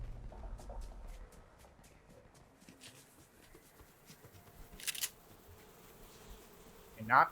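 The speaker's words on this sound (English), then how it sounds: "Those bees, they're gonna sting us." Bees buzzing in the Fortnite Chapter 4 game world, a faint continuous insect drone with soft ticks and a few louder clicks near the end.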